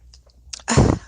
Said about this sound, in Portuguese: Tive que espirrar.